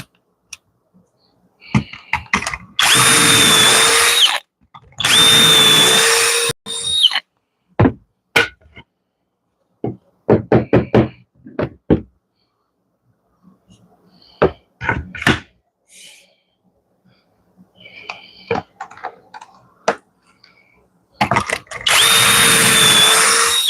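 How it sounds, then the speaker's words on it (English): A hammer drill in a carpentry setting bores in two long, loud, harsh bursts near the start and another at the end, with scattered knocks and clatter in the quieter stretches between. "That's one hammer drill."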